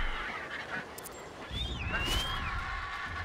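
A bateleur eagle calls in the Ancestors video game, a few harsh honking cries and a rising-falling whistle over a low ambient background.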